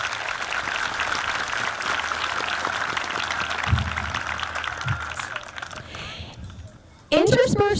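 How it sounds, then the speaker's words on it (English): A crowd at a school Crooked Billet Day program gives a long, steady round of applause for special guests, dense and continuous before thinning out and giving way to a voice. "Can we give all of our special guests a round of applause"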